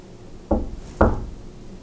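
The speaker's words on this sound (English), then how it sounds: "I'm going to knock." Two sharp knocks on wood about half a second apart, fairly close and distinct, in a quiet room at night inside the Lizzie Borden murder house.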